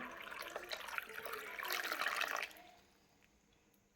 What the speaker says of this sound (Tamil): இதுக்கு போதுமான அளவு தண்ணி ஊற்றிக்கலாம்